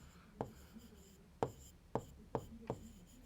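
Chalk or pen taps and scratches out a word on a board during a Class 3 maths lesson, five distinct sharp strokes spaced unevenly, crisp and near, with no voice over them.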